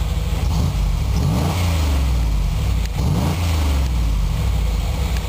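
A van engine fitted with an upgraded muffler and a newly welded 2½-inch exhaust outlet revs loudly and close, with two rising throttle blips over a deep steady rumble.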